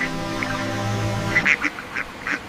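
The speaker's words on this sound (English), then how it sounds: "we are picking up the northern shoveler ducks and other waterfowl" Several northern shoveler ducks quack in short bursts, a handful of calls spaced irregularly over a steady low hum, moderately close.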